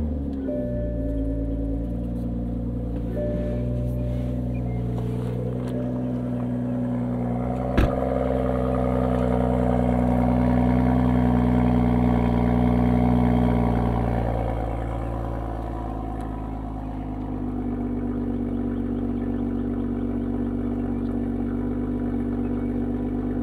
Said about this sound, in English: I'm gonna turn this on, put us in sport mode for the loudest cold start possible.